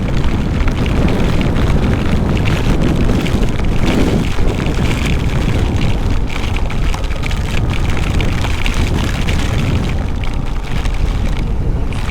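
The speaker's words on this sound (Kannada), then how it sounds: "ಗಾಳಿ ಬೀಸ್ತಾ ಇದೆ, ಹಂಗೆ ಗಾಳಿನೇ ಹಾರಿಸ್ತಾ ಇದೆ." Strong wind blowing across open backwaters during the rainy season, a loud, constant roar and buffeting rumble with no breaks.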